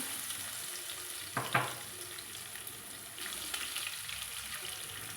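Crushed garlic sizzles in hot oil in a pan, a steady close frying hiss with a brief sharper crackle as it is added and stirred.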